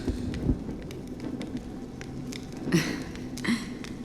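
Steady rain falls in the video game Honkai Star Rail, a continuous hiss with a few soft louder bursts, no voices over it.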